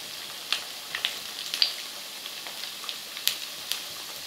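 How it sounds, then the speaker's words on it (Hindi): Potato-stuffed bread rolls deep frying in hot oil, a soft steady sizzle broken by small crackling pops scattered irregularly throughout. "और इन्हें सुनहरा होने तक अच्छी तरीके से डीप फ्राई कर लें।"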